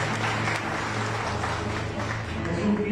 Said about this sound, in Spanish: ¡Un fuerte aplauso para allá!